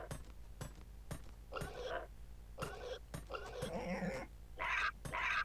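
Boars grunting in Age of Empires II, a series of short gruff bursts with clicks and faint game noises between them, moderately loud and fairly close.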